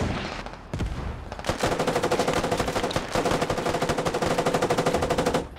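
Machine-gun fire in the military shooter game Squad, aimed at a tank, a few separate shots opening, then a long unbroken rapid automatic burst, loud and close, cutting off at the end.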